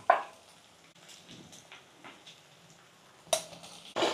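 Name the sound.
stirring ginger-garlic paste into onions in a pan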